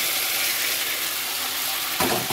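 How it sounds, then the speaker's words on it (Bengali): Fried vegetables tipped into a hot pan of cooked-down spices for a vegetarian lunch, a loud steady sizzle throughout with a brief burst of added crackle near the end. "সবজিগুলো সব একসাথে দিয়ে দেবো।"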